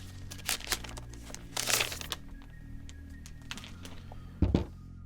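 Plastic film crinkling and tearing as a new M1 MacBook Pro is unwrapped, with a few scattered crackles, a dense burst in the middle and a low thunk near the end, close by with no talk.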